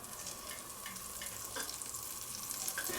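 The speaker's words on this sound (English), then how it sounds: "let's add our butter. And we're just going to give it a quick toasting" A croissant toasting in butter in a frying pan for a bacon, egg and cheese sandwich, giving a steady, moderately close sizzle with light crackles and occasional stirring scrapes throughout, no voices.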